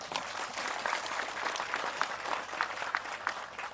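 A crowd applauds steadily, many hands clapping in a dense, even wash of sound that holds for several seconds.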